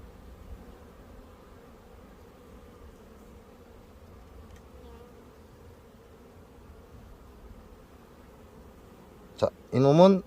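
Honeybees at an open beehive give a steady, low, even hum throughout, and a voice briefly speaks up near the end.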